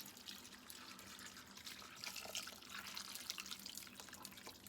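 V8 vegetable juice pours from a bottle into a stew pot, a soft, steady liquid splash and trickle that runs continuously, fairly faint and alone.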